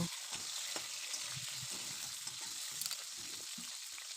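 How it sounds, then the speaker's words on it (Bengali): Taro (kochu) pieces frying in oil in a pan after a cumin tempering, a steady close sizzle with soft crackles and occasional stirring scrapes throughout. "কচুগুলো দিয়ে ভালো করে ভেজে নেব"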